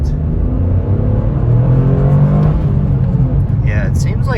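A 2023 Toyota GR Corolla engine pulls hard along a straight, a loud, steady low drone whose tone climbs as the revs rise, heard continuously throughout.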